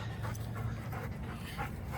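Echo, an excited dog, pants quickly and steadily close by, with rhythmic breathy huffs and no one speaking.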